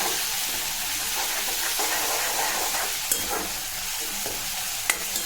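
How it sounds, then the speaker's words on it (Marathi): Green chili and garlic paste frying in oil, a steady hissing sizzle with soft stirring scrapes and a couple of sharp clinks, close up and free of speech. "यातच आपल्याला वाटलेली हिरवी मिरची आणि लसूणचं पेस्ट टाकायचं आहे याला पण दोन ते तीन मिनिट तेलात फ्राय करून घ्यायचं आहे"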